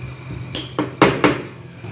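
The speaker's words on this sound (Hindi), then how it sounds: "पहले हम इसमें लहसुन डालेंगे और अच्छे से कूट लेंगे।" Garlic pounded in a mortar with a pestle, heard as four sharp, close knocks and clinks in quick succession over a faint background hum.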